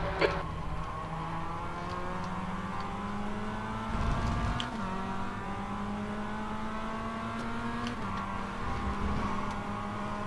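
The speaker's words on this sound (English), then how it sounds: "there's a faster class car approaching" A production race car engine drones steadily at high revs through an endurance race, the pitch climbing and shifting through gears as a faster class car closes in, loud and continuous with no talk.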